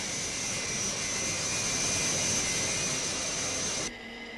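A jet aircraft flies high overhead as a film sound effect: a constant, full roar with a thin high whine over it. The roar holds steady, then cuts abruptly to a quieter hum near the end, with no speech.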